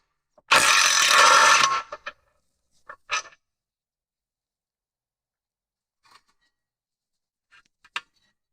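Ratchet on an 18mm caliper bracket bolt of a 2001 Mercedes-Benz W210 E55 AMG front brake: a loud burst of rapid clicking near the start, then a few short separate clicks and taps, with quiet gaps between.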